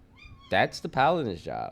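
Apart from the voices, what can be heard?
pet cat meowing for attention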